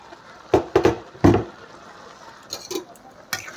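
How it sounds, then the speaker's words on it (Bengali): A metal lid is lifted off a cooking pot of cauliflower korma, giving a few sharp clanks and clinks close by, followed by softer scraping touches and a quiet kitchen. "তাহলে আমি ঢাকাটা খুলে দেখি কতটা দূর হয়েছে।"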